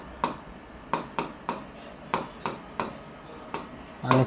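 Writing on a board during a lesson: about ten crisp, separate strokes tap and scrape at an uneven, unhurried pace, close and fairly quiet, with no talking.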